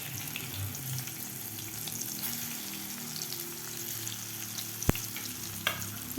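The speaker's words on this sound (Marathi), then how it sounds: "मसालासुद्धा आपल्याला दोन मिनिट परतून घ्यायचा आहे" Spice masala for stuffed brinjal fries softly in a pan, a faint steady sizzle with light stirring and one sharp clink near the end, no talking.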